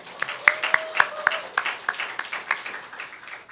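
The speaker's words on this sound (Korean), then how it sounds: "하나님께 박수로 올려드리겠습니다" A church congregation at a Sunday afternoon service claps, sparse and uneven with distinct individual claps that thin out and fade over a few seconds, while a faint tonal voice or sound rises briefly at the start.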